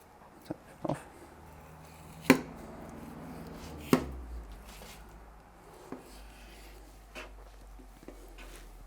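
A 10-inch steak knife trims fat from a sirloin steak, giving a few sharp separate cuts and taps on a board, close and fairly quiet, with low rumbling in between.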